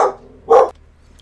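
A dog barks twice in quick succession indoors, two short, sharp, fairly loud barks separated by a brief pause, with no talking over them.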